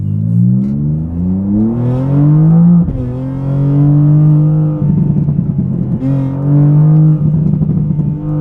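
A 2024 BMW G87 M2 drag build with a wide open exhaust revs repeatedly, rising and falling in pitch with a raspy, crackling rumble throughout.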